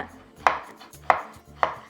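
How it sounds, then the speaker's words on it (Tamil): Three sharp knife chops through bottle gourd against a cutting board, evenly spaced about half a second apart, close and crisp in a quiet kitchen. "நாம் எடுத்த சுரக்காய் எல்லாத்தையுமே நறுக்கி எடுத்துட்டோங்க"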